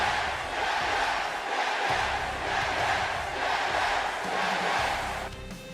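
A wrestling event crowd roars and cheers steadily throughout, a dense, loud wall of voices with shouted calls, fading slightly at the very end.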